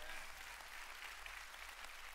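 Church congregation applauding during a service, a steady wash of many hands clapping that holds at a moderate level throughout.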